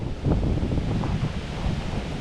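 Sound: wind

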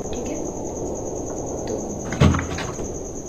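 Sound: door opening and closing in Evil Nun video game

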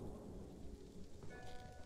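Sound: thunderstorm approaching in the video game Ghost of Tsushima

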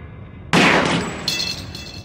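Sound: shot breaking a padlock in Black Mirror video game

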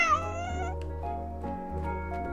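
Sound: cat meowing in video game Calico

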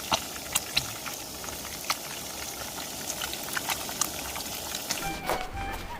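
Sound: deep-frying rockfish

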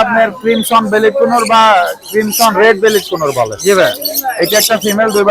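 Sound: pet birds chirping at a bird market

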